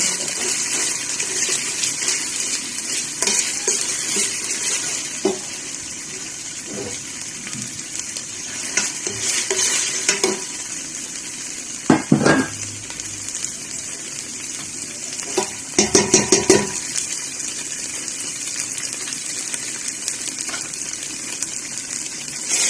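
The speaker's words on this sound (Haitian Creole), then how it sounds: "Pas de tomate bien frit" Tomato paste sizzling steadily in a hot pan with oil, broken by scraping and clattering stir strokes of a spoon, close and continuous with no talking.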